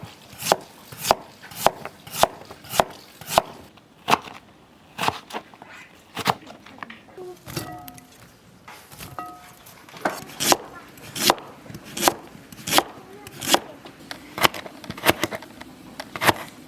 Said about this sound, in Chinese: 先把洗干净的萝卜切成条儿